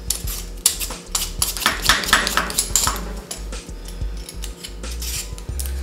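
A butternut squash being peeled with a peeler, quick rhythmic scraping strokes with sharp clicks and bumps on a board, close and fairly loud.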